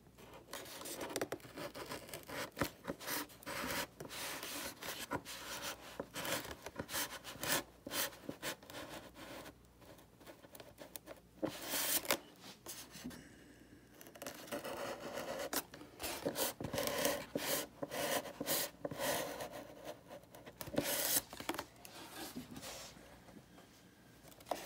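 A standard Home Depot utility knife slices through material in a quiet, close run of repeated short scraping and rasping strokes, with brief pauses between passes.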